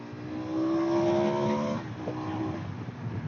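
A KTM 1290 Super Adventure S motorcycle engine revs up under acceleration, a loud rising harmonic drone that holds for over a second, then drops off and settles back to a lower steady note, close to the rider with wind rush.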